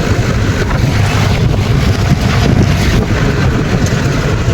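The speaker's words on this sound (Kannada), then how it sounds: "ಟ್ರ್ಯಾಕ್ಟ್ರಿ ತಗೊಂಡು ಹೋಗ್ತಾ ಇದ್ದೀವಿ." A tractor hauling finger millet straw bundles to the field gives a steady, close engine rumble throughout, heavily mixed with wind buffeting the microphone.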